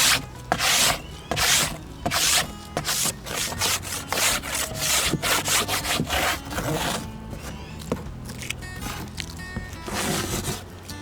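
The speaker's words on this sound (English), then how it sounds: "So then what I do when I'm done is I just scrape it." Repeated rough scraping strokes of a tool across a dirty wooden beehive board during a hive inspection in Northern Nevada, a steady series of close, loud rasping passes with brief gaps between them.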